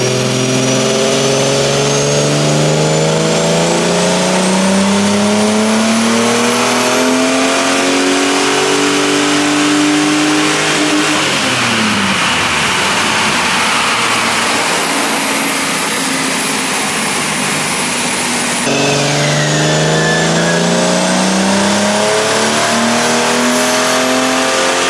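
Naturally aspirated Ford BA Falcon engine on a dynamometer, revving loudly and steadily climbing through the RPM range during back-to-back pulls, with a brief drop before winding up again, close and continuous.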